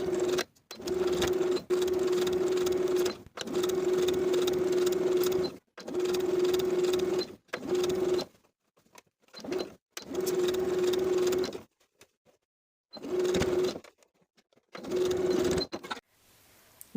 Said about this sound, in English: Sew the outer collar stand to the neckline from one side of the placket to the other with a 3/8 inch seam allowance.